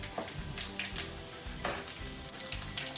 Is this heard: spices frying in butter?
yes